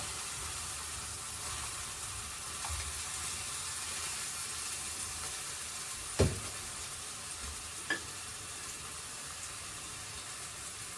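Soft, steady sizzling of prawns frying in a pan, with a couple of sharp clinks of a utensil against the pan partway through.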